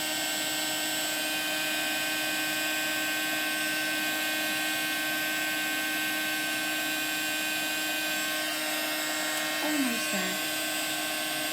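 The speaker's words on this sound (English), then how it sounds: "you don't really need to watch me do all this heat embossing" A heat gun for heat embossing blows with a constant high whirring hum throughout, and a brief spoken remark comes near the end.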